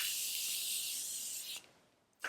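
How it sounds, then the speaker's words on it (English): A steady pressurized spray of Morphe makeup setting spray hisses for about a second and a half, then cuts off, followed by a brief second burst at the end. "I'll just set one more time with my Morphe spray."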